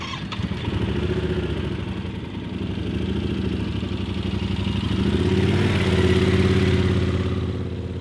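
A motorcycle engine idles and pulls at low speed during slow U-turn practice on a range, a close steady rumbling putter that swells slightly as revs rise near the end, with no talking.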